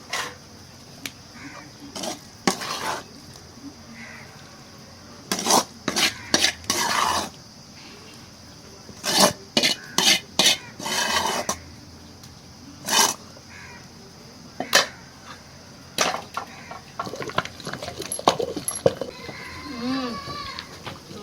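Moringa leaves and tomato are ground in a stone mortar, making bursts of scraping, knocking strokes in irregular runs, with faint animal calls in the background.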